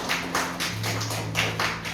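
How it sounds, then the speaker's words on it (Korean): A children's Sunday school group claps in unison at church: rhythmic, evenly spaced bursts of hand claps, moderately loud and close, with a low hum underneath. "다시 감사의 박수로 영광 돌리겠습니다."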